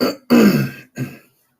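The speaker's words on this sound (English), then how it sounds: "Clear my throat." Someone clears their throat up close: a brief rasp, then a louder, longer guttural clearing, followed by a shorter one before silence.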